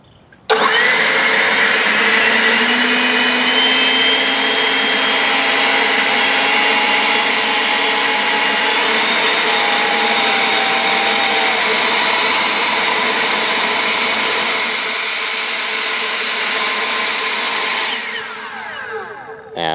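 An EGO Power+ LB6504 battery leaf blower blasts wet leaves on grass with a loud, close, continuous high whine and airy roar. It starts abruptly, holds steady for about seventeen seconds, then winds down.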